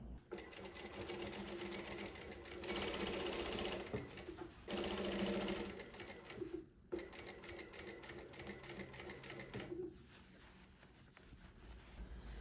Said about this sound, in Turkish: şöyle düz dikişle burayı kapatacağım